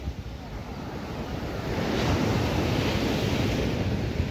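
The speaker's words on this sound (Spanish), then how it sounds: "Es que miren las olas." Large ocean waves crash and wash onto an Acapulco beach, a broad roaring surf that swells louder midway, with wind buffeting the microphone.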